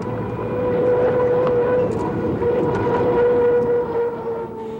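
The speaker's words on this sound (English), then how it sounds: "And this is a turbine engine." A turbine-engine hydroplane racing boat gives off a steady, loud whine over a broad, rushing roar, holding an even pitch throughout and fading slightly at the end.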